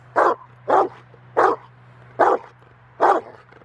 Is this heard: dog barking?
yes